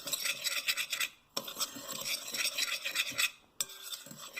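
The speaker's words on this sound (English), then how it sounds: "stir it together" Sugar and dry bread ingredients being stirred together in a bowl, a quiet gritty scraping and rasping in repeated strokes with two brief pauses, no voices.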